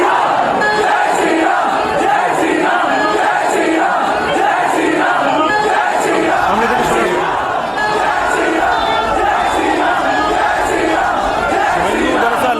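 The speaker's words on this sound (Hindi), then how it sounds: "बाहर समर्थक जय श्री राम का नारा लगा रहे थे" A large crowd of supporters outside Lal Bazar police station chants the Jai Shri Ram slogan, loud rhythmic massed voices sustained throughout with cheering.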